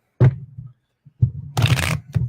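A deck of cards shuffled close up in a few short bursts: quick snaps, then a longer riffling flutter and a final snap, with brief silences between.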